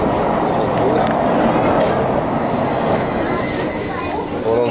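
A metro train rolls along rails inside a cave tunnel with a central live rail, a loud sustained rumble with screeching wheel squeal and metallic high tones throughout, nearby and constant.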